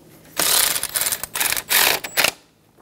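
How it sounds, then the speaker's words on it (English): A ratchet tightening the bracket bolt on a 2010-2014 Subaru Outback 2.5L H4 alternator, heard as close, loud bursts of rapid clicking in several quick strokes over about two seconds, with no talking. "Snug down the bracket bolt."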